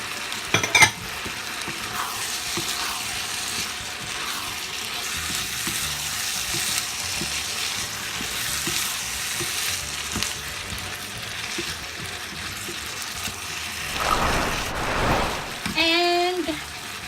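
Minced beef stir-frying in a pan with oyster sauce and soy sauce, a steady broadband sizzle running throughout with occasional stirring scrapes, and a brief voice near the end.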